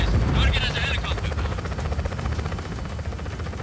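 A helicopter in the video game Just Cause 4, its rotor thrum loud at first and then settling into a steady chopping drone amid game noise, with a voice speaking over it.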